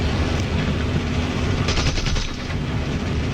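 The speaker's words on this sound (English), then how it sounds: "I'm getting shot here repeatedly" Dense, continuous machine-gun fire rakes the player's aircraft in War Thunder, a loud rattling barrage layered over steady engine roar, with no talking.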